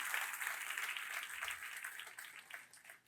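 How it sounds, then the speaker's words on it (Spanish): A church congregation applauds steadily during a sermon, a dense wash of clapping that fades slightly toward the end. "Si le va a aplaudir, apláudale fuerte al Rey de Reyes."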